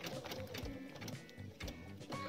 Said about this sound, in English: So we start stitching along our inside curve.